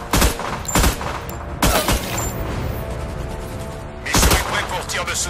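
Cannon and gunfire in the Battleship video game: three loud, sharp volleys of shots with rattling bursts between them, close and punchy over a steady background rumble.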